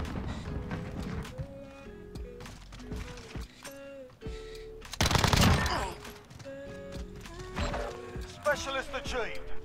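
Video game gunshots, with scattered sharp single cracks and one louder cluster of firing midway, over a busy game soundscape of mechanical clicks and tones while players talk throughout.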